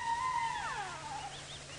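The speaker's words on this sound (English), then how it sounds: "Now the noise you heard was hyenas," Hyenas calling near a leopard on a sunset safari drive, a single faint whooping call that slides downward, heard alone against quiet background hum.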